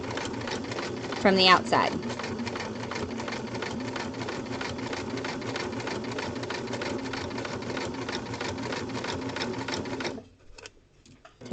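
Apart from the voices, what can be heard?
sewing machine stitching a pocket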